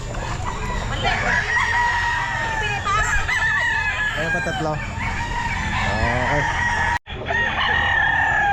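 Roosters crow loudly and repeatedly at a busy outdoor pet market, with clucking in between and people talking under the birds.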